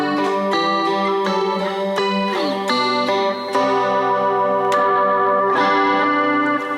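Sustained clean electric guitar chords ring through a Boss Katana Mini X amp with a shimmering, slightly chorused tone, played steadily with new chords struck every second or so.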